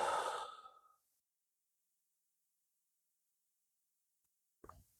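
A single soft exhale at the start of a yoga handstand prep class, fading within a second, followed by quiet and a faint breathy rustle near the end.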